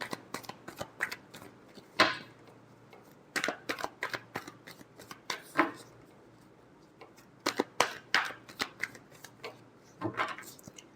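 Tarot cards are shuffled in repeated quick bursts of riffling and snapping, close and crisp, separated by short pauses.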